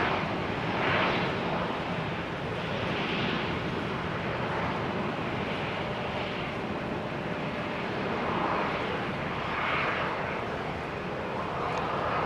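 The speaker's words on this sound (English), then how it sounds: "KLM is using the reversers, no doubt. You can see it and you can hear it." A KLM jet airliner's roaring engines surge as thrust reversers engage on landing on a wet runway at Amsterdam Schiphol in showery weather, a broad steady rumble with swelling whooshes, heard from a distance amid wind.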